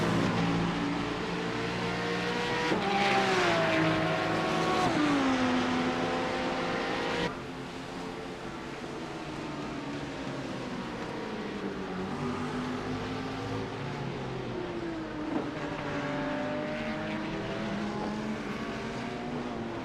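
Porsche sportscar engines in an iRacing IMSA race at Mid Ohio, a steady blend of droning engine tones rising and falling with gear changes and throttle, with no talk over it.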